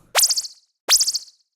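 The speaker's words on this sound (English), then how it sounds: "We have a bit of a little sparkle sound effect." Two short bright sparkling synthesizer chimes, a saw wave with LFO shimmer, each a quick fluttering shimmer that wobbles rapidly, separated by a brief pause and ringing clearly on their own.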